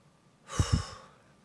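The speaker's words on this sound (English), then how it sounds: "all I have to do is take the cap off and inhale it" A single close, soft breath drawn in from an open bottle of essential oil, a brief airy inhale with two quick sniffs and a gentle breathy trail, otherwise quiet.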